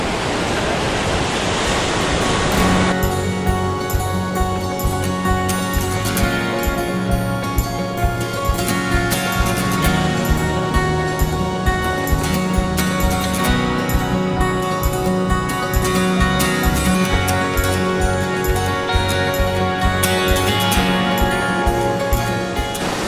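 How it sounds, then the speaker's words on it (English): Surf waves roll steadily onto an open beach on a long stretch of coast, a continuous loud broadband wash with repeated swells breaking close by and no talk. "we just got to bloody dodge the waves"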